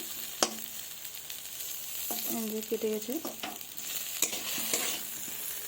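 Potatoes frying in a pan sizzle steadily with the clatter of stirring, close and continuous, while a voice speaks briefly.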